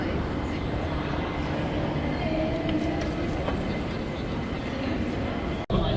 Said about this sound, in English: Now we're on the Aerotrain to get to our connecting flight.